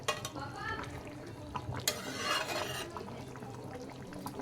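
Fish and potato curry (aloo potol macher jhol) cooking in an uncovered pan, a faint soft bubbling and low sizzle with occasional stirring clinks throughout.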